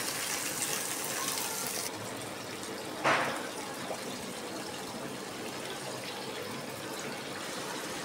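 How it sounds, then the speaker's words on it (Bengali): Water poured into a pan of simmering fish curry (bele fish tel jhal), a brief splashing gush heard once over a continuous soft hiss. "এবার আমি দিয়ে দিচ্ছি জল।"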